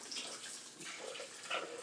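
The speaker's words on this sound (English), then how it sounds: "I'm going to use my filtered water and totally rinse the bird really, really well." Filtered water runs steadily from a kitchen tap into a clean sink while a raw turkey is rinsed, giving a continuous close splashing hiss with small shifts in tone and no talk.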